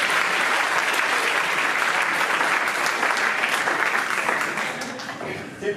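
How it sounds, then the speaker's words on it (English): A live show audience breaks into a big round of applause, loud, dense clapping from a large crowd held steady for about five seconds before fading away at the end. "Please give a big round of applause."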